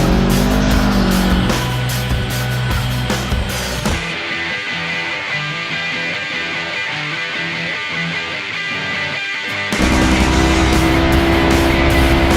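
Race cars in the 2018 Vegas to Reno off-road race roar past about a mile outside pit 11, loud engines with a sharp drop in tone midway as one passes, then the roar returning.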